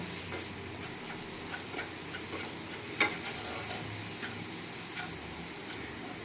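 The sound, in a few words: water added to semolina pulao, sizzling while stirred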